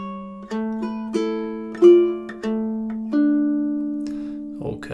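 Solo ukulele plays a short classical passage, A Little Flower, as clear plucked single notes in a gentle, unhurried rhythm, close and moderately loud with no voice over it.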